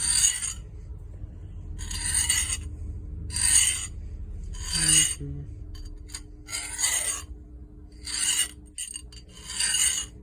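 A hand file sharpens a rusty lopper blade in about eight separate, rhythmic rasping strokes, each a short gritty scrape, close up and clear over a faint low hum.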